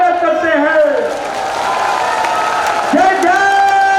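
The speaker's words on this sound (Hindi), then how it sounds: "जोरदार तालियों से स्वागत करते हैं।" A large crowd at a Congress party rally in Madhya Pradesh claps and cheers beneath a loud amplified voice with chant-like pitch swoops, the clapping steady throughout.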